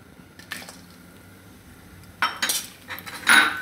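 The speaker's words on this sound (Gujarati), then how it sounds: "હવે આપણે આમાં ટોપરું નાખી દેહું." Grated coconut goes into a pan over medium flame to roast for goda (kala) masala, giving soft rustling, scraping bursts that build near the end with a light metallic clink, close by and with no talk.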